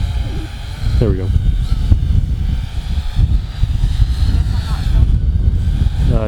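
A Syma X8HG quadcopter camera drone in altitude hold flies close by, its rotors giving a steady buzzing whir that holds throughout under near-continuous talk.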